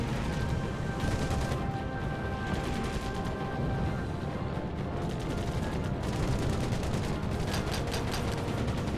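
Aircraft cannon fire in the World War II naval air combat game Air Conflicts: Pacific Carriers, dense rapid rattling bursts under a constant roar of engine and battle noise, moderately loud throughout, with no clear talking.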